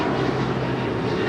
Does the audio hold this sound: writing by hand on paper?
no